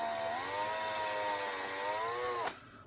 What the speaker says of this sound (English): We're just drilling out a little pilot hole in there for now